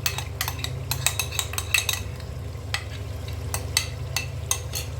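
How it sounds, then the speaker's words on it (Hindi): Yogurt being stirred into browning minced meat and potato curry in a pot, a spoon scraping and clinking against the metal in irregular bursts over a steady low sizzle of frying, with no talking. "अब मैं इसमें दही डाल रही हूँ।"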